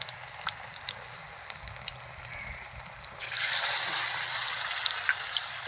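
Pumpkin flower fritters coated in gram-flour batter fry in hot oil, a steady close crackle that jumps to a louder, brighter sizzle as another fritter drops into the pan, with no voices.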